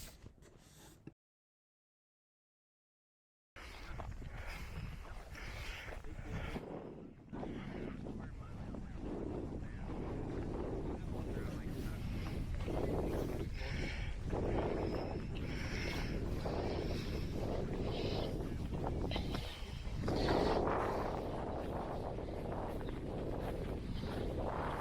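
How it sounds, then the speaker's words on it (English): Steady, roaring wind at Banff buffets the microphone for most of the stretch, broken by a brief silence near the start, with faint background sounds beneath. "it's very windy at this spot"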